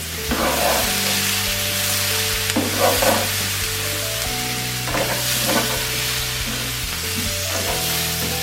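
Oregano, herbs and spices fry in a pan with a loud, steady sizzle and occasional stirring scrapes, while background music plays underneath.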